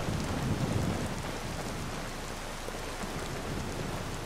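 Rain pours steadily in the video game Skyrim Special Edition, a dense continuous hiss of drops with a low rumbling underneath, heard alone without speech.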